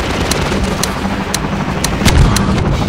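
Repeated heavy gunfire and booming explosions ring out during a gunship fight in Half-Life 2, loud sharp blasts spaced through a dense roar of combat, with a bigger, deeper impact near the end and no talking.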